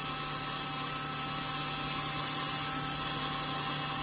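A Melodysusie SR3 Jade electric nail drill runs continuously, a thin, steady high-pitched whine with faint mechanical hum, heard up close and alone.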